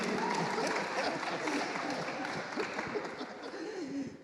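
Conference audience at a 2024 annual gathering clapping for a speaker on stage, a moderate wash of applause with scattered chuckles and some voices mixed in, fairly even throughout.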